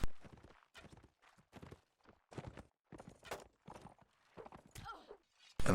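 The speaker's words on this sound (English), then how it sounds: "Black Tide's horse just got the kill." A horse in a video game moves in quick rhythmic clip-clop bursts of hoofbeats, close and fairly faint, with short gaps between them.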